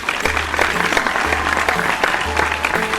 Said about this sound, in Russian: Давайте поприветствуем Майка аплодисментами и послушаем его